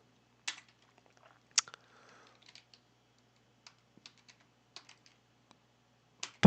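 Typing on a computer keyboard: sparse, irregular clusters of soft key clicks and taps, close and quiet in an otherwise silent room, with no voices.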